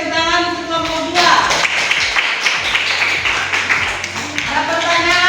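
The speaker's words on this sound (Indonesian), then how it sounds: "tepuk tangan untuk kelompok 2" A classroom of students clapping for group 2 after a presentation, a dense burst of applause between spoken passages, close and fairly loud, with a voice talking at the start and end.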